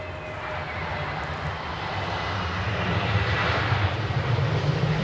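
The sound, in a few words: Emirates Airbus A350-900 jet aircraft engines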